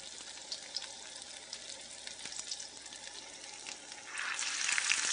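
Cornbread dressing fritters frying in a pan, a steady soft crackling sizzle with scattered pops that swells louder and brighter toward the end, no voices.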